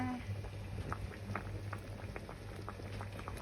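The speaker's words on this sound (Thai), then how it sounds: "เดือด เสียงเดือด ตุ๊บตับตุ๊บตับตุ๊บตับ" A large pot of Thai green curry boils steadily, with close, soft bubbling pops and plops repeating in an irregular patter over a low continuous rumble.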